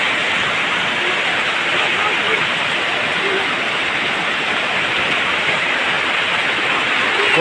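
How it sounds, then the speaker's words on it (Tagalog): Dense, steady hiss of heavy rain pouring down without a break, loud and close, falling on a damaged corrugated metal roof, with no other sounds standing out. "Ang lakas ng ulan."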